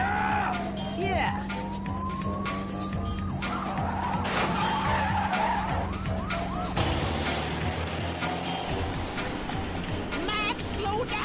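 Cartoon car speeding with a revving engine and a long tyre skid, with a police siren wailing and voices talking over the loud, continuous chase noise throughout.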